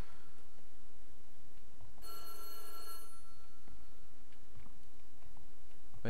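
A telephone rings once in the horror video game White Day, set in a school at night: a single bright, trilling burst about a second long stands out against a quiet, low ambient drone.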